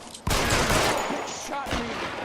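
Gunshots ring out in a shootout in the video game L.A. Noire on Xbox 360, starting with a sudden loud burst and then several sharp, close shots cracking over a busy, dense background.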